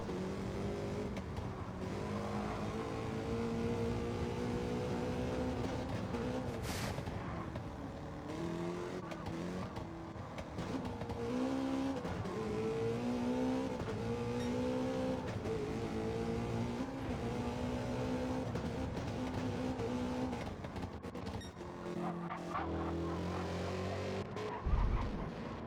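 Race cars circling a track in a racing video game: a dense, continuous roar of several engines revving and shifting together, steady and loud throughout, with a brief tire skid near the end.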